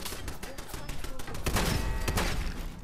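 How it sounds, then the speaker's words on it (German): Gunfire in the video game Fallout 4 crackles in a rapid burst of sharp shots and thuds, with the loudest cluster landing near the middle and tailing off under a murmur of game noise. "Den Schuss hätte ich mir sparen können."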